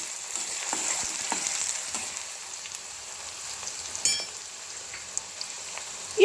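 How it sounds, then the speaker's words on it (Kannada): Onion sizzling and frying in hot oil for a bitter gourd palya, a steady close crackle with occasional stirring clinks and scrapes, no voices. "ಇದು ಸ್ವಲ್ಪ ಫ್ರೈ ಆಗಬೇಕು"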